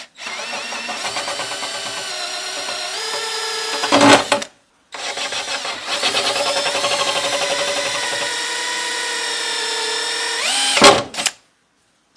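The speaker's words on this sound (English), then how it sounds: "Got a hole saw right here, so I'm going to just try to drill a couple of holes" A power drill with a hole saw boring holes for a front hitch on a Jeep Cherokee XJ, two long loud whining runs with rising pitch, each ending in a grinding burst before a sudden stop.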